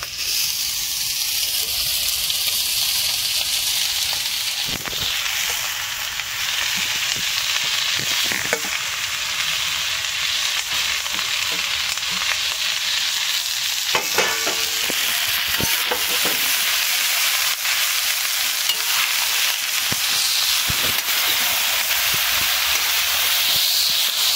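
Vegetable momo filling frying in a kadai gives a loud, continuous sizzle and hiss throughout, with occasional scraping and clinks from stirring up close.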